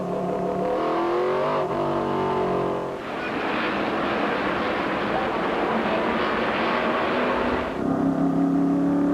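1998 NASCAR Busch Grand National cars at the Milwaukee Mile roaring up to speed at a restart on lap 212 of 250, a loud, dense engine howl swelling as the pack accelerates, with a broadcast voice faintly underneath.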